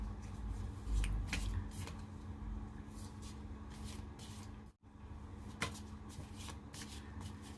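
Oracle cards are shuffled by hand in repeated soft riffling and sliding bursts, close and fairly quiet, with faint background hum and no talking.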